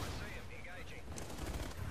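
Gunfire from a transformable gun in Infinite Warfare, a steady dense rattle of shots running the whole time amid busy game noise, with a voice faintly underneath.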